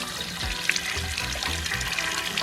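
Chilly water runs in a mountain stream in the Blue Mountains of Jamaica, a steady close burble with a few low sloshing splashes as a hand moves through it.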